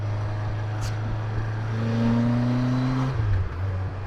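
A heavy BMW K1200RS motorcycle engine revs with a rising drone that climbs, holds, then drops back to a low rumble, close and fairly loud.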